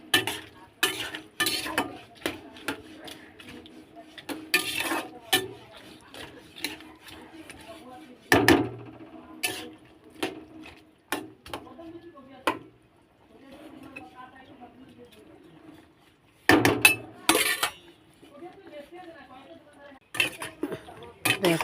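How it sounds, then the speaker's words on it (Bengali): Papad and potato curry is stirred in a cooking pot: a ladle scrapes and clinks against the metal in irregular bursts with quiet gaps between them, and a voice speaks at times. "নেড়ে দেবো।"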